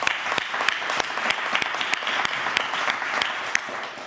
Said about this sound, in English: Really want to give you another round of